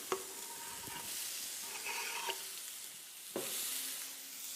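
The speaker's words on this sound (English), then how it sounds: "a little bit of olive oil in our pan, tablespoon, and then in with our onions" Finely chopped onions sizzle in a tablespoon of olive oil in a pan, a steady close frying hiss broken by a few clanks and scrapes as they are stirred.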